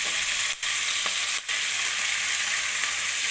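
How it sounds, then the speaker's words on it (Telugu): Tender drumstick leaves cooking with chopped onion and tomato in a kadai, giving a close, even sizzle with a few faint stirring scrapes. No one speaks. "లేత మునగాకు చక్కగా మధ్యలాగా కలిపేసుకోండి"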